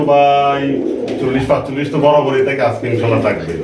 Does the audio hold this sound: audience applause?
no